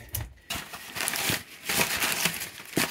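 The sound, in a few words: crinkling cardboard and paper packing while unboxing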